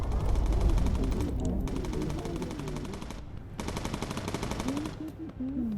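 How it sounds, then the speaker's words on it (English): Sustained ground gunfire rattles steadily in the Bomber Crew video game, a dense machine-gun-like stream running almost the whole time with brief dips, while a voice speaks over it. "I'm under heavy fire from land."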